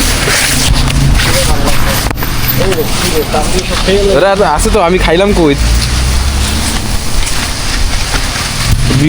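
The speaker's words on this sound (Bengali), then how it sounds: "কঠিন বৃষ্টি নামতেছে।" Heavy rain pours outdoors in Malaysia as a continuous loud hiss and roar, with someone talking over it.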